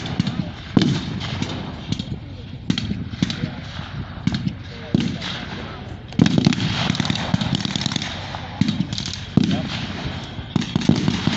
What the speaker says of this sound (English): the Germans will now push forward under the cover of the MG42 that's firing